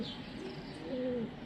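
A large Giribaz pigeon gives a single soft, drawn-out coo near the end, close by, over steady low background noise with no talking.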